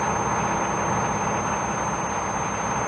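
Diesel engine running steadily inside an isolated, soundproofed test cell, a constant loud broadband rumble with an even hum and no pauses throughout.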